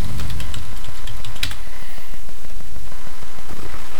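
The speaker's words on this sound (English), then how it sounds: "Type in your root password." Keys clatter in a quick, even run of taps on a computer keyboard as a password is typed, close and loud over a constant background hiss.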